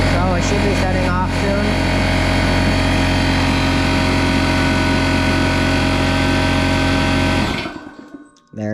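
A new Porter Cable air compressor runs loud and close with a steady mechanical drone, then shuts off abruptly near the end and the noise falls away.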